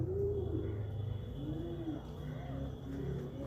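Pigeons in Kolkata coo in soft, repeated rolling calls over a low background hum, several birds overlapping at close range.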